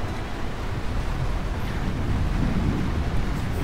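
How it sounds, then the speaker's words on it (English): Menacing thunder rolls through the video game Lightyear Frontier, a loud, continuous low rumble with rain-like noise filling the whole stretch, no voices. "That thunder's sounding quite menacing."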